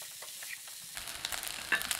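Mushroom fried rice is stirred in a hot pan over high flame, quiet scraping strokes giving way to a steady close sizzle with a few sharp crackles.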